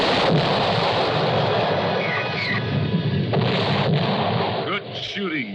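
Cartoon spaceship gunfire booms and rumbles in a dense, continuous barrage of blasts, loud and close, with voices briefly heard over it.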